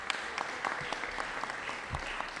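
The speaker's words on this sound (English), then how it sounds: "Let's give him a round of applause." A crowd claps steadily throughout, a dense patter of applause from a moderate distance.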